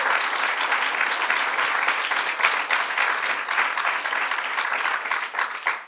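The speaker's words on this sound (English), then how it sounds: "Let's give them a round of applause for their good work." An audience applauds at a governor's bill-signing event for women's equality legislation, a dense, steady wash of clapping that holds at an even level throughout.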